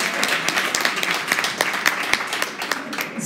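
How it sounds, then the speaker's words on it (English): Audience clapping for the MC at a live-streamed event, a steady patter of many hands that stays moderately loud and dense throughout with no voices. "Give a round of applause to the MC."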